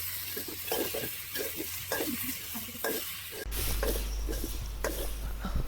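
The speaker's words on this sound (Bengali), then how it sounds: "সেই ঢ্যাঁড়সগুলোকে আমরা ভালোভাবে কষিয়ে নিব, ভালোভাবে নেড়ে চেড়ে কষিয়ে নিব কিছুক্ষণ" Okra and shrimp being stir-fried in a pan, a steady sizzle with repeated scraping strokes of a spatula at a regular rhythm, up close and fairly quiet.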